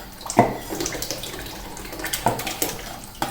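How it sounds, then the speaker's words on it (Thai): Pork marinade liquid is poured into a pot of boiling sauce: a splashy, gurgling pour with a few sharper splashes, close by and fairly quiet. "พอน้ำเริ่มเดือดนะฮะเดี๋ยวเราใส่น้ำที่เรา ใช้ในการหมักหมูนะครับ ที่ลงไปเลยนะครับ"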